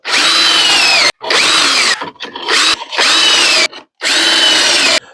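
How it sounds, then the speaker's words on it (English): A power drill drives into wood, whining loudly in four separate bursts with short pauses between, grinding close up with no talking. "insert drill, and pull the trigger"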